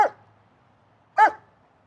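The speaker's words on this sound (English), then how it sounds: "if I just didn't react to him barking" A dog gives two sharp barks about a second apart, close by, with quiet between them.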